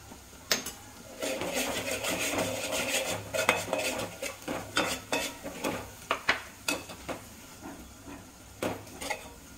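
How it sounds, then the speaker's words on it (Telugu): Ginger paste and onions frying in a pan, with a spatula repeatedly scraping and clinking against the metal over a steady low sizzle, close and moderately loud. "అల్లం పేస్ట్ కూడా వేగింది"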